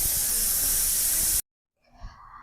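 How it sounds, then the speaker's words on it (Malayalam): A pressure cooker on a gas stove, cooking payasam, hisses loudly and steadily as steam escapes after whistling, then cuts off abruptly into silence, followed by faint rustling. "വിസിൽ പോകുന്നവരെ വെയിറ്റ് ചെയ്യാം"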